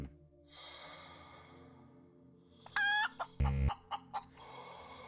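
A chicken in the video game BreathEdge clucks and squawks in a short burst of loud, close bird calls, set against a steady low game ambience with no talking.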